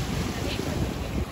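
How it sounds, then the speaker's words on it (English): Ocean water at the shore on Jeju island washes in a continuous, close surf roar, heavily buffeted by gusty wind rumble against the microphone. "Can you hear the ocean? It's right in front of the ocean."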